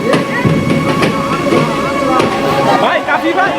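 Police gunfire on a highway during a protest, sharp cracks and bangs ringing out repeatedly over a loud, busy background of crowd and street noise.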